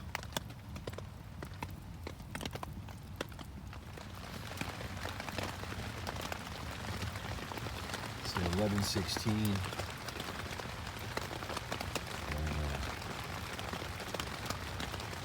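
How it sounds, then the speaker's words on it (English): Heavy rain drums steadily on a bushcraft shelter with an old rain fly, a dense close patter that runs throughout while someone speaks briefly over it. "Raining pretty hard."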